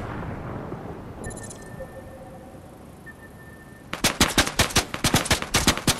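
Heavy sniper rifle shots in the Fortnite video game fire in a rapid run of loud, sharp cracks near the end, after a quieter stretch of game tones and ambience.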